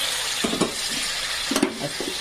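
Masala for a sprouted-bean usal gravy sizzles in a hot pan while it is stirred and hot water is added, giving short bursts of hiss and scraping over a steady frying crackle. No one speaks.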